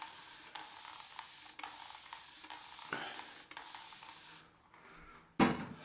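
A shaving brush lathers Proraso shaving cream in a bowl, making steady swishing, stirring strokes in a quiet room with short pauses and one louder scrape near the end.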